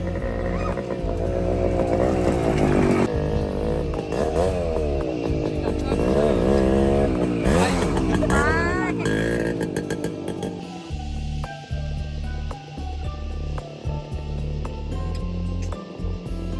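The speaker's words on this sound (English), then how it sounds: "Now it's time for some off-road bike ride." A motorcycle on an off-road ride runs loud and close, its engine revving and rising in pitch, then settling into a steadier, rougher idle-like drone with bumps and rattles.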